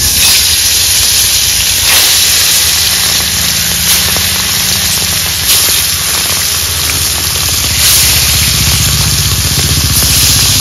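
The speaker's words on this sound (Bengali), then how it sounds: "মাছগুলো তেলে ছেড়ে দেব।" Hilsa fish pieces frying in hot oil in a wok, a loud, dense and continuous sizzle and hiss heard up close, with no voices over it.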